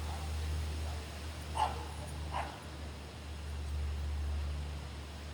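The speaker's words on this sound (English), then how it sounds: "That's my neighbor's dog." Two short dog barks at a distance, about a second apart, over a steady low hum of background noise.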